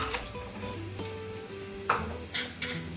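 Cashews sizzling as they fry with golden-brown onions in a pan, a steady crackle with a few brighter stirring scrapes and spatters near the end.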